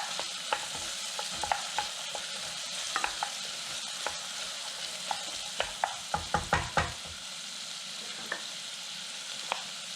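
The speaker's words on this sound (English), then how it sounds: "I'm going to start with some onions. We're going to saute these." Onions sautéing in a pan for a green chili and potato soup, giving a steady close sizzle with scattered sharp clicks and taps of a utensil stirring against the pan, no talking.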